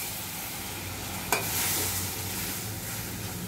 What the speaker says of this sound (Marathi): आता या क्षणाला मी गॅस कमी करतोय आणि यात हे मी दूध घालणार आणि हे दूध आतेपर्यंत मी ह्याला शिजवणार.